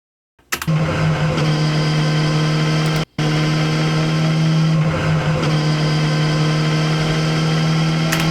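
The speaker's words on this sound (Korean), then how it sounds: "그리고 이거는 배기 소리고요." A motorcycle exhaust captured while riding slowly, a steady close engine drone with a strong low hum, starting abruptly after a moment of silence and briefly cutting out once midway.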